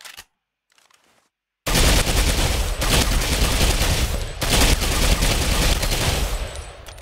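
Rapid SMG and LMG fire in Ghost Recon Phantoms erupts after a short near-silence, a loud, continuous stream of automatic shots with a couple of brief pauses before it trails off.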